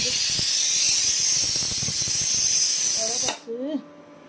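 Steam hisses loudly and steadily from an opened pressure cooker after bottle gourd has boiled in it, a broad continuous rush that cuts off abruptly near the end, followed by a brief faint voice.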